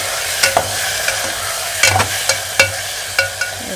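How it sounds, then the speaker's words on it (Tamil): Tomatoes are sautéed in a pan for a chickpea and brinjal tamarind curry, sizzling softly while a spoon scrapes and taps against the pan in repeated strokes, close by with no talk. "தக்காளியை போட்டு இது கூட நல்லா வதக்கிக்கலாம்."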